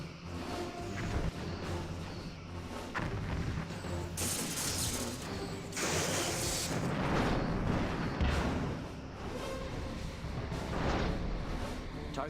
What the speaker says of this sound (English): Come on, fire those torpedoes.